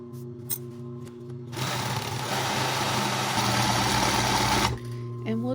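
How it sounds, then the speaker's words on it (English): An industrial sewing machine stitches thick cord coils for a large multicolored basket, a loud continuous buzzing motor run of about three seconds, starting and stopping abruptly with quieter handling clicks on either side. "that's why I use an industrial strength sewing machine so that it will go through"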